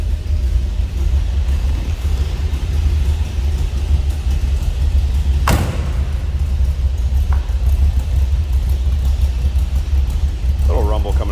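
A 1981 Chevrolet Corvette's 350 V8 idles with a loud, steady low rumble throughout, with a single sharp knock midway.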